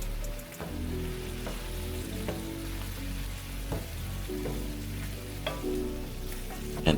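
Italian seasoning is being mixed into a sizzling cream sauce with shrimp, spinach and mushrooms, giving a continuous soft sizzle with light, scattered stirring scrapes and no voices.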